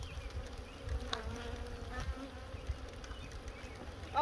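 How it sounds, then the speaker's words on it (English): Honey bees buzz around nearby while being moved from a nuc to a hive, a steady hum with individual insects droning past close by. "These bees are probably going to be so angry at me."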